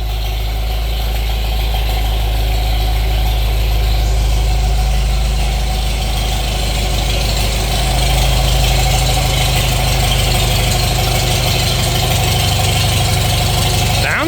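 An old tractor engine idles steadily up close, loud and continuous with a low rhythmic chugging throb that holds evenly throughout.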